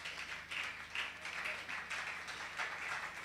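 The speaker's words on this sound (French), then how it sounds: "Acclamons pour le Seigneur" A church congregation at a women's congress applauds for the Lord, a steady wash of many hands clapping at a moderate distance, swelling in waves over a faint low hum.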